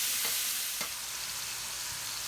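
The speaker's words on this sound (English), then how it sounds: "Here is the chicken thighs as they are sizzling on our griddle" Chicken thighs sizzle on a griddle with a continuous, fairly quiet frying hiss, marked by a couple of faint clicks or pops near the start.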